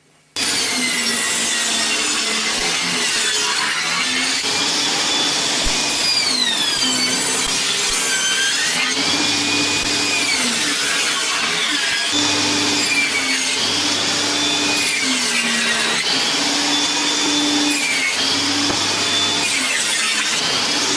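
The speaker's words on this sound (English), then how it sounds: "to start with I'm just going to rough cut it on the table saw" Table saw rough cutting a wooden door panel: a loud, steady whining blade roar with shifting pitch as the wood feeds through, running continuously for about twenty seconds with no talk.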